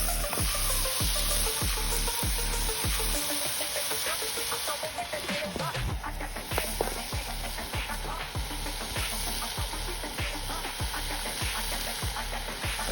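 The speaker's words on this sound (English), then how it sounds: "Time to cook some bacon. Are you ready for this sizzle?" Bacon frying in a pan at a stealth campsite outdoors, a steady close sizzle and crackle running throughout with soft rhythmic tapping underneath.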